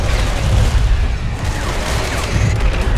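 Gunfire in the dinosaur shooter Primal Carnage Extinction, a dense run of low booming shots and thuds rolling on steadily across the whole stretch, loud and close with no clear gaps.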